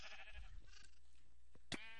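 Sheep bleats in a sheep-herding video game, with short wavering animal calls and a sharp louder burst near the end, over game background noise.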